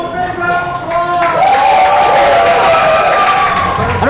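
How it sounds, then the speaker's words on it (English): Applause and cheering from a crowd at Disney World's Beaches and Cream, loud and close, with clapping, excited shouts and overlapping voices that swell and then hold steady. "Give them a big round of applause."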